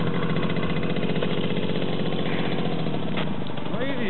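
A Romet Pony moped engine putters loudly and continuously at close range, its tone shifting slightly as it pulls away under throttle, with steady road noise throughout and no speech.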